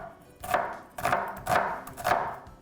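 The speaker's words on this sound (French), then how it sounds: "je vais hacher l'oignon assez finement parce que je veux que ça soit vraiment caramélisé" A knife chops an onion finely on a cutting board, with four evenly spaced, crisp chops sounding close and clear with no talking.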